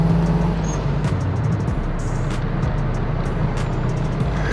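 A Toyota Levin fitted with a swapped 3S-GTE turbo engine pulls out to overtake, its engine and road roar steady and loud throughout with a constant low rumble and no voices.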